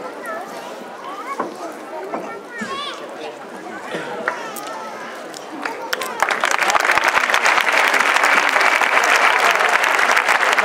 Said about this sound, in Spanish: así que recibiré este fuerte aplauso que bien os lo habéis ganado.